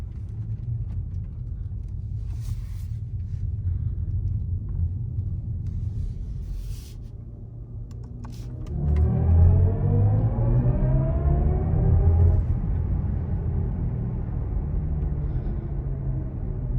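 BMW i7 electric luxury sedan driving on a road, heard from inside the cabin as a steady low rumble of road and tire noise that swells slightly partway through, with no talking.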